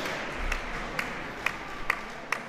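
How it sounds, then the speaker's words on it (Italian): Sparse, slow hand clapping, about five evenly spaced claps, from what sounds like a single spectator at a quarterfinal match, fairly faint over steady background hall noise. "Applausi anche del maestro Maffei."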